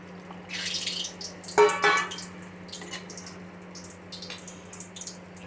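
Strained tamarind water poured into a pan for South Indian kara kulambu, a soft trickling splash with a brief louder pour in the middle over a steady low hum, close and fairly quiet.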